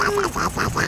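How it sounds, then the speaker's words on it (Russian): Ducks quack in a rhythmic run of about five calls, close and fairly loud, while they slip about on ice; a person speaks faintly in the background. "Утки."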